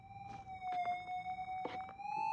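A continuous wavering tone drones steadily from a Minelab GPZ 8000 metal detector in headphones while gold prospecting, with faint crackles and scraping bursts scattered over it.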